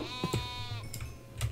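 A goat in a video game gives one wavering, drawn-out bleat up close, followed by a few softer animal grunts, with no talking.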